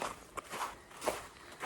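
Crunchy footsteps on lingering snow along a mountain stretch of the Pacific Crest Trail near Big Bear, a few close, uneven crunching steps that are soft but clear and heard alone.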